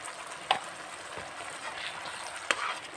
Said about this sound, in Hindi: नमक को भी अच्छे से मिक्स कर लेंगे मसालों में।